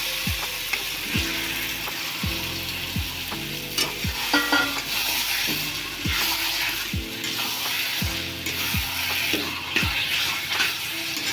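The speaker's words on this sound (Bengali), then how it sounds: "চিকেন আগের থেকে নুন হলুদ লঙ্কার গুঁড়ো কাঁচা তেল দিয়ে মাখা আছে তো আমি সেটাকে দিয়ে দেবো মশলার মধ্যে" Marinated chicken fries in a spice masala while a spoon stirs it. Loud, steady sizzling runs throughout, broken by repeated scraping strokes of the spoon against the pan.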